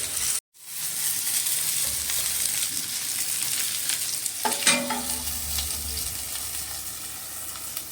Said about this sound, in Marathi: हे अशा भेंडे टाकल्यानंतर आपण हे थोडंसं झाकून घेणार आहोत, म्हणजे भेंड्या फ्राय होते